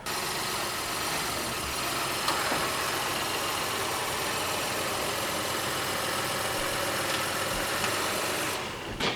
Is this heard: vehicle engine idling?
yes